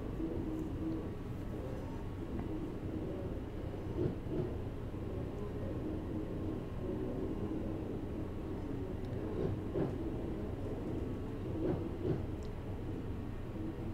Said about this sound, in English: I'm going to shut the power off now just to allow the train to coast